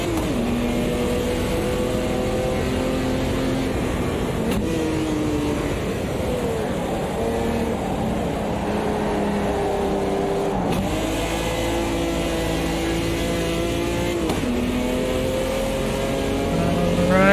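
A Puma GTB race car in Automobilista 2 revs hard through a series of corners, its engine rising and falling continuously with brief lifts and gear changes, loud and close with no talking.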